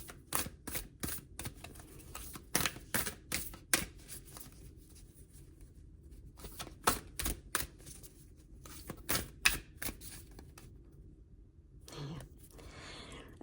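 Cards are shuffled and drawn for a throat chakra card reading, a close, crisp run of riffling flicks and snaps in bursts with short pauses.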